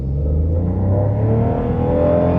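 A 2024 Perodua Axia accelerates at full throttle, its engine a loud, steady rising drone heard from inside the car, with rumbling road noise beneath.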